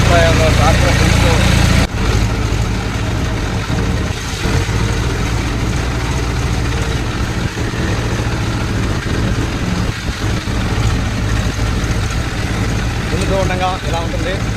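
A tractor engine drones steadily and loudly while ploughing a farm field, a continuous low rumble running throughout after a brief louder opening burst, with faint voices in the background.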